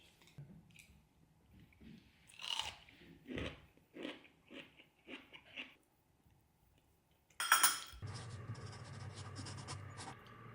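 Crunchy yellowish snack being chewed close up, a run of crisp bites and crunches, with a louder rustling burst near the end.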